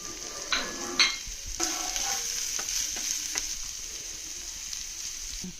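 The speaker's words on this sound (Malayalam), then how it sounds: "സവാള ഒന്നുകൂടെ നന്നായിട്ട് വഴറ്റി ആവുന്നത് വരെ നമുക്കൊന്ന് വെയിറ്റ് ചെയ്യാം" Chopped onions with a pinch of salt sauté in a pan, a steady sizzle broken by several sharp scraping stirs of the spoon near the start, then continuing quieter frying with occasional clinks.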